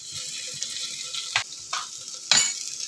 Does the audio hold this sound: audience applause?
no